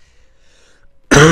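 A single loud throat clearing or cough from someone under the weather bursts out near the end, after a stretch of near silence.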